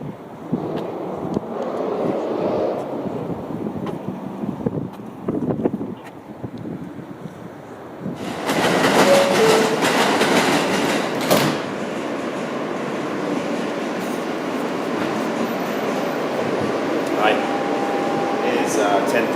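Rumbling station ambience with wind buffeting and shifting mechanical noise; a loud burst like a passing train rises midway, then a steady hum settles in.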